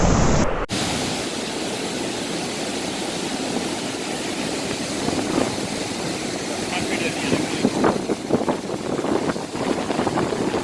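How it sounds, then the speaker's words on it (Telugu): Floodwater released from Somasilla Dam roars continuously as its waves crash against a bridge, a broad loud surf-like wash with occasional heavier surges, no speech audible. "ఈ వాటర్ వచ్చి బ్రిడ్జ్ని కొట్టుకుంటూ ఉంటే"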